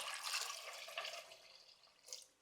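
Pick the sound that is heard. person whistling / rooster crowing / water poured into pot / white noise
water poured into pot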